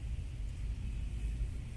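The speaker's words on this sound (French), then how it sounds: "Vous entendez le bruit là? La circulation et tout." Street traffic in Algeria gives a low, steady rumble, faint and distant, with no distinct vehicles standing out.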